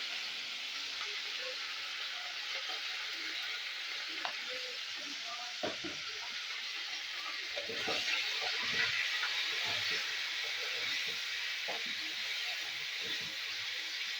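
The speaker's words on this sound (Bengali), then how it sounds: "ফুলকপিগুলো একটু ভেজে নেবো।" Cauliflower pieces frying in a pan with a little salt, a soft steady sizzle under repeated scraping and stirring clicks, moderately close, with no one speaking.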